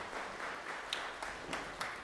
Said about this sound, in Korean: 큰 박수로 하나님께 영광입니다